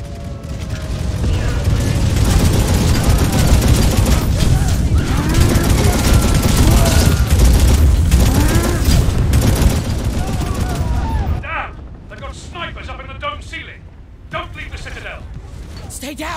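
Dense, loud volleys of sniper and weapon fire in Necromunda: Hired Gun clatter for about ten seconds, then thin out into scattered, quieter shots and mechanical noises, with voices speaking over the fighting.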